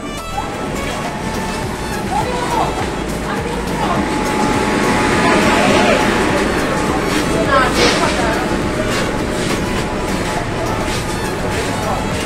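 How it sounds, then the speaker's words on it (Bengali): A Kolkata underwater metro train pulls into an underground station, its broad rumble and rush building to a peak midway, then easing, with talk and station noise throughout. "মেট্রো চলে এসেছে"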